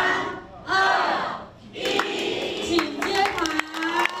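Crowd at the formal opening of the Tzu Chi Senior Care Center in Shuxing Borough bursts into applause and cheering, loud and sustained, with voices shouting over the clapping.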